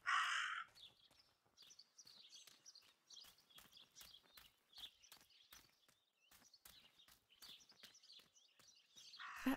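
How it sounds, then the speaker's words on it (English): Raven in the horror game Martha Is Dead, cawing over and over in a steady, insistent series of harsh calls, moderately distant and faint, with brief louder noise bursts at the start and end. "That raven is making a big fuss."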